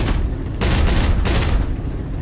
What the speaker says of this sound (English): That is the machine guns. That is the four cannons.